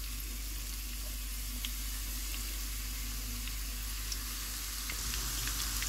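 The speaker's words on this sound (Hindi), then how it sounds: "जब ऑयल गर्म हो जाएगा तो चॉप किए हुए प्याज डाल देंगे।" Chopped onions sizzle in hot oil for a moong dal tarka, a steady, close, even frying hiss that runs throughout with a few small pops and crackles.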